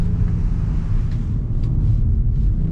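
BMW M4 or M440i at speed on a flying lap of a race track, with a steady loud engine rumble and heavy wind and road noise throughout.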